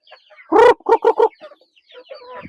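Darag native chickens cluck close by: one loud, drawn-out squawk, then three quick clucks in a row, followed by softer, scattered clucking.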